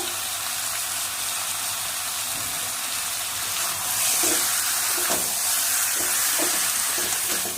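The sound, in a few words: chicken being sautéed in a pan for chicken kasha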